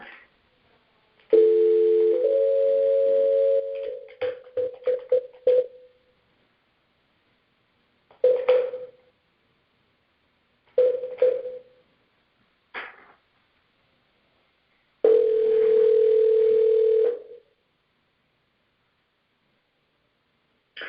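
Telephone dial tone after a failed call, a steady electronic hum heard in separate bursts with gaps of silence between them, the first and last lasting about two seconds, the middle ones short and clipped.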